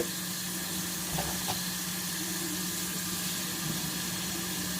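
Alimasag crab goes into a pan after sautéing for a coconut-milk dish, giving a steady, moderate sizzle with a couple of soft bumps and a sharp knock at the end.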